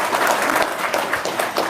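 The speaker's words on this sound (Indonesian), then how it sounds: "tepuk tangan dong, luar biasa" An audience bursts into applause, steady overlapping hand claps forming a dense, fairly loud patter that runs without break.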